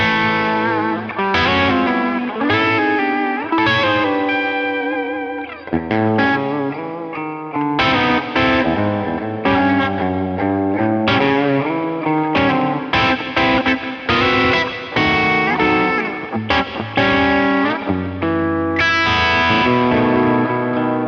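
An electric guitar on its humbucker pickup runs through a Two Notes Genome preset in a bluesy rhythm-and-lead style, playing loud, sustained distorted chords and lines with effects continuously for about twenty seconds.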